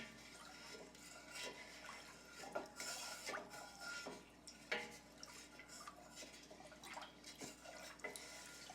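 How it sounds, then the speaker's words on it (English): A spoon stirs French onion soup in a pot, faint clinks and soft scraping against the metal with wet sloshing, quiet and close with no talking. "Go ahead and give that a stir."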